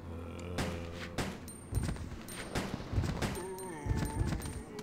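A rapid series of sharp booms and blasts from explosions and gunfire in Resident Evil Code Veronica X, fairly faint, with some tonal game sounds in between.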